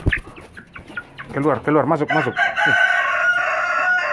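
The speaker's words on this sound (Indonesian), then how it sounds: "inilah ayam-ayam kita sobatku" Backyard chickens cluck busily while a rooster lets out a loud, close crow midway, with a person talking over the flock throughout.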